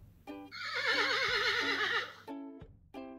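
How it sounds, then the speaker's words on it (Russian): A horse lets out a loud, wavering whinny lasting over a second, bracketed by shorter nickering calls before and after. "Это лошадь."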